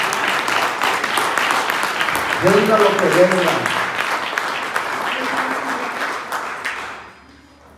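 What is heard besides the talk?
congregation applause for the King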